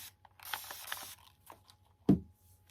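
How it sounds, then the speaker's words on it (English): Aerosol spray hissing into the inside of a pig-shaped resin mold, a steady bright hiss for about a second, then a close clunk and a quieter spurt, over a low hum. "So let's spray the inside of our pig."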